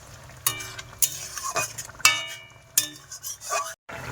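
Curry broth with fish and taro root simmering in a pot, a low bubbling bed punctuated by several sharp metallic clinks and scrapes of a spoon against the vessel, close and without speech.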